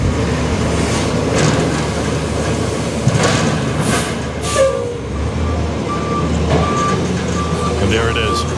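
Sanitation truck backing up at a street parade, its reversing beeper sounding as repeated tones over steady traffic and crowd noise, with people talking nearby.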